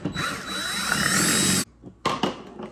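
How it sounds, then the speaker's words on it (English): A power drill bores into the plastic of a 1/6 scale tracked dozer kit, a loud sustained whine for about a second and a half, then it stops and resumes briefly in a short burst. "We'll go ahead and drill this side."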